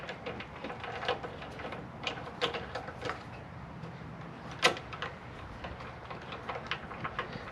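A 3/8 socket ratchet clicks in short, uneven bursts while tightening a carburetor mounting bolt on the Briggs and Stratton engine of a John Deere JS63C push mower, close and fairly loud, with a sharper metallic clack partway through.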